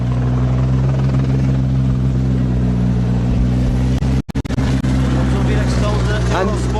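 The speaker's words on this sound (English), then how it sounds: "We've got our helicopter flying, tracking Mickelson down to the stage end" A helicopter flies over a rally stage at the Azores Rallye, its steady low rotor and engine drone continuous and fairly loud, with a brief dropout midway and people talking over it.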